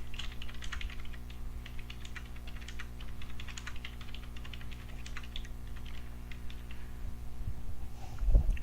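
Steady typing on a computer keyboard, with quick soft key clicks continuing throughout at close range over a low background hum.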